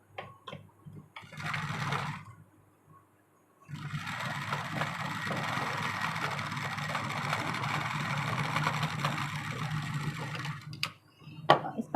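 A sewing machine runs steadily for several seconds, stitching a blouse sleeve along a marked line, after a few short bursts and a pause; loud and close, with no talking.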